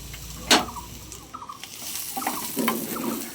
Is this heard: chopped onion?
yes